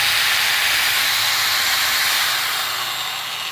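A hand grinder with a worn transmission gear coasts with a loud, rough, hissing whir that holds steady and then slowly fades as it spins down, with no talking.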